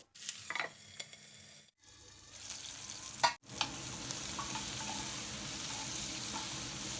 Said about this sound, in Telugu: ఈ టమాటా ముక్కల్ని కూడా వేసేసి మరో నిమిషం మగ్గనిద్దాము